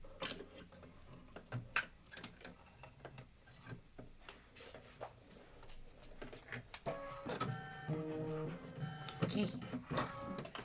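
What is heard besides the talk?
embroidery machine stitching white spider web detail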